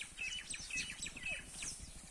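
Small birds on a rooftop give quick, high chirps and tweets in overlapping bursts, faint and close, with a soft scratchy background under them.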